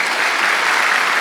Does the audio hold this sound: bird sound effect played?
no